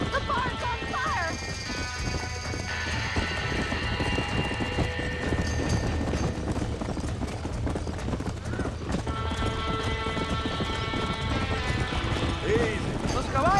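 Panicked horses in a burning barn in the video game Red Dead Redemption: steady hoof clatter and stamping with occasional whinnies, loud and continuous under shouted voices and swelling music.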